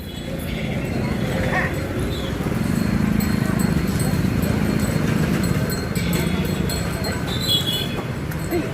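Bullocks pulling a cart through a weekly market in Muddebihal, North Karnataka, hooves clopping steadily beneath a constant hum of crowd chatter and market noise.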